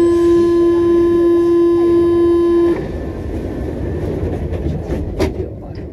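A Paris metro train rumbles close by, with a sustained two-tone door-closing buzzer ringing out before cutting off, leaving the steady rolling clatter of the carriages.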